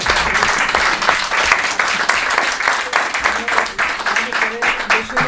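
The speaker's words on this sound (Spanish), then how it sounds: "pues un aplauso para vosotros por el esfuerzo de los tantos." An audience at a pensioners' assembly in Maliaño, Cantabria, breaking into sustained, fairly close applause, dense clapping with uneven swells that carries on throughout.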